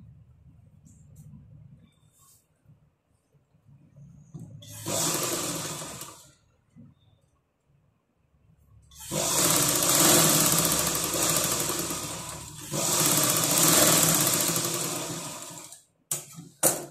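Electric sewing machine stitching blouse fabric, running in several bursts of a few seconds each, with a rapid whirring chatter. Quiet pauses and faint talk fall between the bursts.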